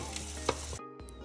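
Onion, ginger and garlic fry with salt and turmeric in a pan, giving a steady close sizzle that cuts out briefly near the end and then resumes.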